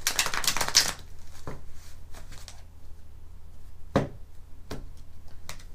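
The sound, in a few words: shuffling tarot cards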